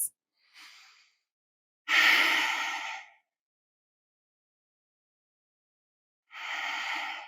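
Slow, deep yoga breaths, made up of a soft short breath followed by a long, full exhale of about a second and, after a quiet pause, another long breath, close and clear with no talking.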